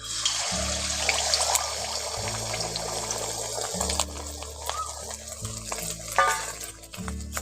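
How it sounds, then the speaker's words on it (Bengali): An egg dropped into hot oil in a pan sizzles and crackles steadily, with a looping low hum running underneath. "এখন আমি ওর মধ্যে ডিমটা দিয়ে দিচ্ছি।"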